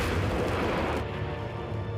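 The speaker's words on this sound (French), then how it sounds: "c'est la machine à café qui déraille" A malfunctioning coffee machine gives a loud, dense bang-like rumble that sustains broadly for about a second, then settles into a duller, steady roar.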